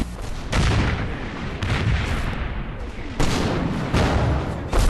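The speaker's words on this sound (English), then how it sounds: "Sure enough, A hidden anti-tank gun is fired upon the Shermans" Hidden anti-tank gun firing on Sherman tanks in the Combat Mission Normandy video game, heavy booming shots with rolling battle noise between them, loud and continuous.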